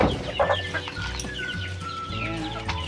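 Backyard chickens cluck steadily and close by while being given feed, with overlapping soft calls and a few sharper squawks in a busy farmyard bed of sound.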